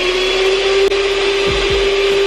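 Electric hand mixer whirring steadily through homemade sweet potato pie filling, a constant close motor hum with a few low bumps of the beaters against the bowl.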